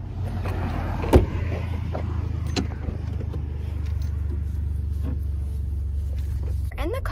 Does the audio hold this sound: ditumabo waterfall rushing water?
no